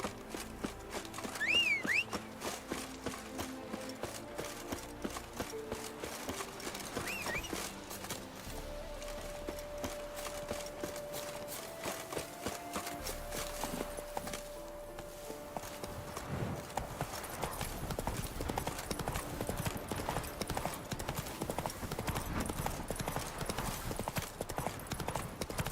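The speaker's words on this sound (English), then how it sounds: "Look at my horse now." Horse hooves clip-clop steadily in The Witcher 3 game, a rhythmic run of hoofbeats under game music and ambient sound, with a brief whinny near the start and faint background voice at moments.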